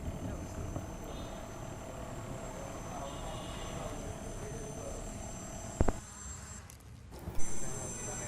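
Small autonomous GPS-waypoint delivery drone with an Arduino flight controller and servo payload release flying outdoors, a steady propeller buzz droning throughout, with a sharp knock near the end and a few brief bumps after.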